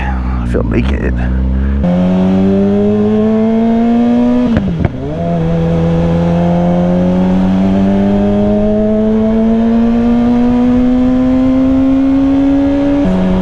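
A Kawasaki ZX-4R motorcycle fitted with a $1,300 full exhaust revs loudly and close by, its pitch climbing and dropping sharply in one quick blip before rising steadily again in a long, smooth pull.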